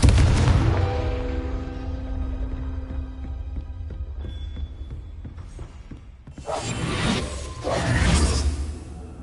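Spell blasts in the video game Hogwarts Legacy: a swelling whoosh with tonal shimmer and sharp impacts, a brief lull, then two loud bursting blasts near the end, no talk.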